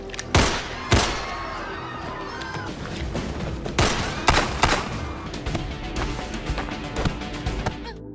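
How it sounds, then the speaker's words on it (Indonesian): Gunfight in a mafia crime film, with loud sharp gunshots cracking out at irregular intervals amid a busy, dense action soundtrack, several bursts close together and others spread across the scene. "tiba-tiba Rana langsung membrutal hingga terjadi aksi tembak-tembakan"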